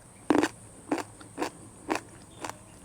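Crisp bites into crunchy cucamelons, small cucumber-like fruits, come as five sharp, snappy crunches spaced roughly half a second apart, close up and otherwise quiet.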